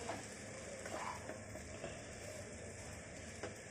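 Food frying in a pan with Maggi seasoning, a faint steady sizzle broken by a few soft scrapes and clinks of stirring.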